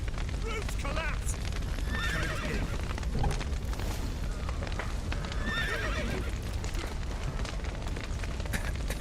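Horses whinny in frantic, repeated bursts over pounding hooves and a rumbling, crackling din of a burning, smoke-filled building, with voices shouting amid the chaos, in The Witcher 3: Wild Hunt.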